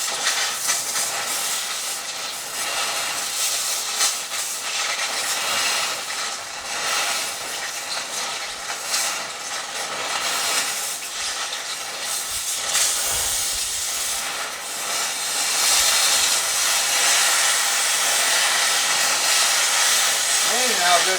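A cutting torch with a clean nozzle slicing through metal in a shop, giving a loud, continuous roaring hiss that holds steady for the whole stretch and swells slightly toward the end.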